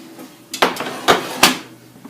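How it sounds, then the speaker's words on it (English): A pie crust dish coming out of the oven for a quiche, with three or four sharp clanks and knocks of the dish and oven rack against a low hum, close and fairly loud. "Retrieve the pie crust from the oven."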